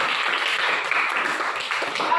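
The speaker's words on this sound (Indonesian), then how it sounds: "Oke, nah tepuk tangan dulu." Students in a school classroom clap together, a dense crackle of applause holding steady for a couple of seconds at moderate volume, with voices mixed in.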